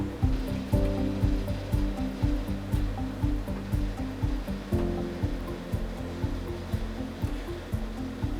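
An auto-siphon is pumped to move home-brewed beer into a secondary jug, making a repeated rhythmic gurgling and sloshing of liquid up close, with about a dozen even pulses.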